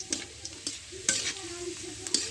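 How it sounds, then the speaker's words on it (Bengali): Chopped garlic frying in a pan until browned, a soft continuous sizzle with a few brief scraping stirs, close and fairly quiet, no talking. "এবার বুঝতে হবে যে রসুন ভাজা হয়ে গেছে"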